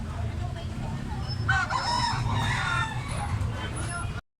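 A rooster crows loudly over a busy background of clucking fowl and a steady low rumble, with faint voices mixed in.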